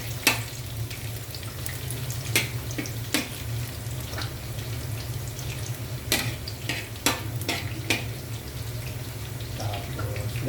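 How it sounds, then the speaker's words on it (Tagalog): Garlic frying in a home kitchen pan, a steady low sizzle and hum broken by sharp clicks and scrapes of a stirring spoon against the pan at irregular intervals. "Ang ating bawang. Papulahin natin ng konti."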